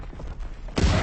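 Grenades explode in Call of Duty WW2 gameplay, dense rumbling gunfire-like blasts throughout, with a louder, heavier boom near the end of the short burst.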